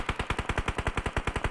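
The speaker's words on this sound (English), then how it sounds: "A lot of gunshots at the bottom there." Rapid automatic gunfire in PUBG Mobile during an esports match, a fast even burst of about sixteen sharp shots at moderate distance.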